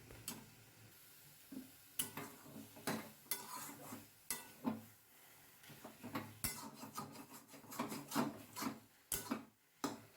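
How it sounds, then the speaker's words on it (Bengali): Chechi saak greens stirred in a steel wok over heat, cooked without oil: repeated close scraping and rasping strokes of a spatula against the pan, irregular and fairly quiet. "শাকটা কিন্তু কন্টিনিউ নাড়তে হবে, কড়াইয়ের নিচে লেগে যাবে"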